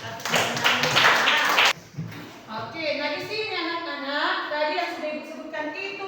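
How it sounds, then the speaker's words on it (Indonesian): A class of children clapping for a classmate, a dense burst of close applause that stops abruptly, followed by an adult's voice speaking. "Tepuk tangan buat temannya."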